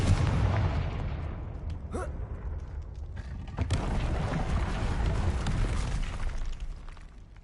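Confringo fire blast spell cast in Hogwarts Legacy, heard as a loud, sustained booming rumble with crackling bursts that swells again midway and fades slightly at the end.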